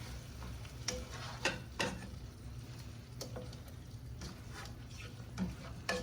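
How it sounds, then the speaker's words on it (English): Cheesesteak stuffed pepper filling gets stirred in a pan with the heat just turned off, a soft continuous scraping and faint sizzle broken by a few sharp spoon clicks against the pan. "I'm just going to give this a stir to mix all these ingredients together."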